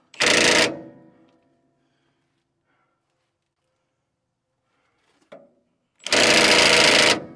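An impact wrench in a truck workshop, where a brake is being worked on with an oxygen-acetylene torch nearby, fires two loud, short bursts of rattling hammering several seconds apart, with a faint clank between them.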